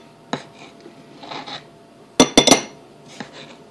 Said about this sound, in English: I'm going to put in 4 tablespoons of potato starch